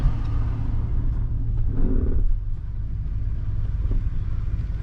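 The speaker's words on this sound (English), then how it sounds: "he's spinning the tires so that he can dig some holes so the winch won't just drag him" A Silverado truck stuck while fishing out a vehicle spins its tires to dig in before winching, a loud continuous engine rumble with a brief surge of revving partway through.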